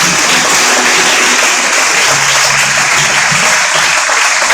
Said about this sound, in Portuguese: Aplauda aí, glorifica a Deus